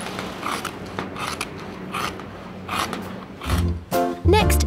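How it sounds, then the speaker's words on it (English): Scissors cutting a PVC sheet up close, a series of crisp rasping snips in a fairly even rhythm, followed by a few louder clacks and crunches near the end. "Listen to the sound of the scissors."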